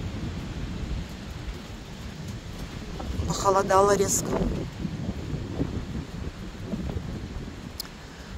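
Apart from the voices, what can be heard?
thunderstorm with wind and rain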